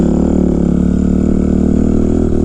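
A Kawasaki KX 250F dirt bike engine runs at a steady, loud, continuous drone close by, holding a fairly even pitch with no talk over it.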